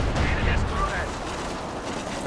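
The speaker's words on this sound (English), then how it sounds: "Artillery going in against my Grenadiers and Panzer Grenadiers." Artillery fire in the video game Company of Heroes 2 keeps up a dense, continuous rumble of blasts throughout, with a voice talking over it.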